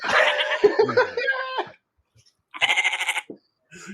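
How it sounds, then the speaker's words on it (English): Several goats bleat in quick succession nearby, loud wavering calls in two bursts with a short silent gap between them, no talking. "Here comes a choir of goats."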